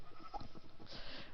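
Sheep bleat in the Minecraft video game, a short wavering bleat over a low, rhythmic background rumble, close and moderately loud.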